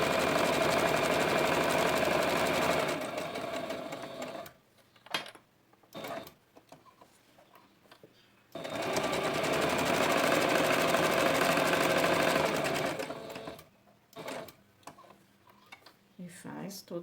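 Domestic sewing machine stitching fabric for an eyeglass case, loud continuous whirring runs in two long bursts separated by quieter gaps with small clicks and handling noises.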